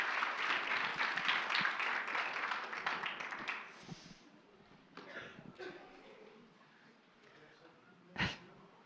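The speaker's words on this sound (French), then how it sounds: "on peut encore les applaudir bien fort" Audience applause after a cosplay competition performance at the Japan Impact convention, a dense wash of clapping that is loudest at the start and gradually thins out, with a few scattered claps and murmurs near the end.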